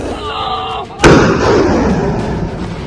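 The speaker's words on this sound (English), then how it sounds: "Barrage of missiles and rockets." A missile or rocket blast lands as one sudden loud bang, then a rolling rumble that stays loud for a couple of seconds.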